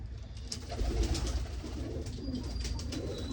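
Pigeons, including a female, coo in low, soft, repeated murmurs close by, with light rustling around them and no talk.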